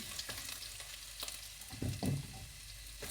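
Chopped shallots and ginger frying in hot oil with fenugreek for a Kerala-style sardine curry, a steady soft sizzle with a couple of louder bursts as ingredients hit the pan.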